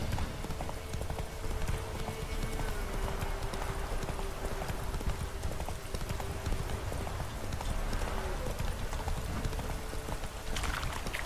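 Hooves of Roach, a horse in The Witcher 3: Wild Hunt, beat a steady galloping clip-clop throughout, close and fairly loud over a continuous outdoor ambience.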